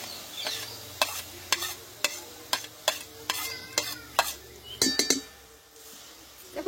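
Ajwain coated in lemon juice and black salt is stirred in a hot dry wok: a quick series of about a dozen crisp scraping and clinking spoon strokes in an uneven rhythm, close and distinct, with no talking.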